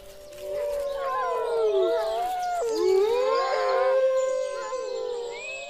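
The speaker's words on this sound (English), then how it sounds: "Wolves still roam throughout the Dumitor Mountains, and their howl is a primal call of the wild." Wolves howling in the Durmitor Mountains, several long rising and falling howls overlapping in a chorus, sustained and fairly close, with no other sounds.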